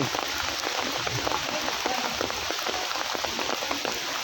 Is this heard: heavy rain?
yes